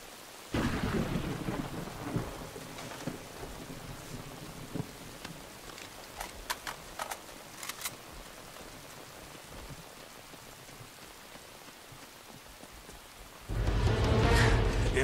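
Heavy rain and thunder in the game Uncharted 2 form a constant downpour hiss, with a rumbling roll of thunder near the start, scattered crackles in the middle and a loud surge of rain at the end.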